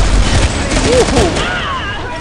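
Rapid gunfire bursts in the online shooter Planetside 2, loud and close with a dense crackling texture, as a player's voice talks over the combat.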